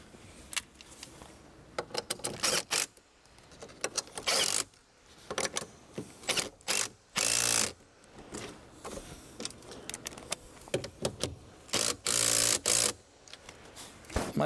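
Ratchet with a 10mm socket tightening nuts on towing mirrors of a Land Rover Discovery, close sharp bursts of clicking in short irregular runs, with brief louder rustles between them.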